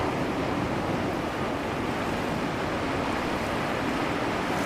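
Ocean waves roll in a steady, unbroken wash of surf, loud and close throughout, with some wind noise and no voices.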